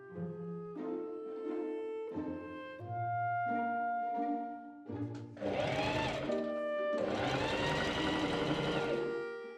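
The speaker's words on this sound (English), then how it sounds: "I machine baste the pocket to the front trouser, and I machine baste at the top pocket notch." A sewing machine bastes a pocket onto the front piece of Regency-style men's pantaloon trousers with a series of short motor runs at rising pitch, then two longer, louder bursts of close stitching.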